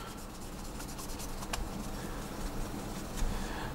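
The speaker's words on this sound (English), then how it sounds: "I'm now kind of doing the same thing where I do circles and I now polish it off with a clean part of the cloth like so." A clean cloth polishing an aircraft canopy in circular strokes gives a steady, close, soft rubbing hiss with slight swells and a couple of brief scuffs, with no talking.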